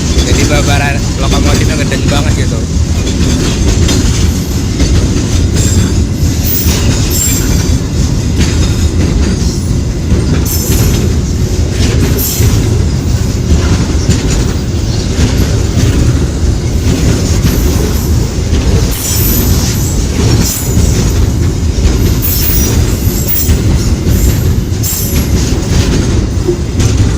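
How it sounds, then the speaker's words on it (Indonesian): A train locomotive strains up an incline near Cigading station, a loud, steady, dense rumble of engine and rolling wheels with faint clacks and squeals running throughout, close to the microphone. "Jadi Babaran lokomotifnya ngeden banget gitu."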